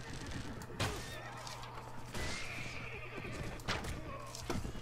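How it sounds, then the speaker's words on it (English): A horse whinnies amid chaotic battle noise in a video game, with thuds and crashing impacts as the horse crashes into the player, busy and loud throughout. "That was the sound of a horse crashing into us."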